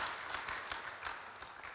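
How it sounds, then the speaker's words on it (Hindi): A crowd at a church assembly applauds to welcome guests, a faint, steady patter of many hands clapping from a distance without pause. "जोरदार तालियों के द्वारा उनको हम स्वागत करें।"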